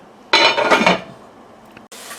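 A spoon stirs shallots in a pot, giving a short burst of scraping and clinking against the metal, then quieter fading sounds and a second brief scrape.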